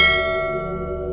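A single struck bell rings out with a bright metallic strike, then a long sustained shimmer of overtones that slowly fades, loud and close, alone with no voices.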